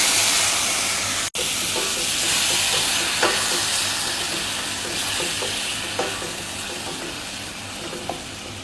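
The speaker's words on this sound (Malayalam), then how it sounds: "അതിലേക്ക് നമ്മൾ കുറച്ച് സുർക്ക, വിനാഗിരി ഒഴിച്ചു കൊടുക്കുക" Steady loud sizzle of carrots frying in a hot pan after vinegar is poured in for a mango and carrot pickle, a continuous hiss with a sharp clank near the start and occasional stirring clicks.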